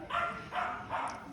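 A dog barks three times in a steady rhythm, moderately close, with some crowd ambience at an outdoor lantern lighting ceremony for the Queen's Platinum Jubilee.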